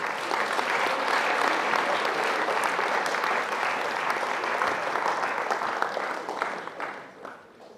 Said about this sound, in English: So give yourselves another round of applause because I'm proud of you.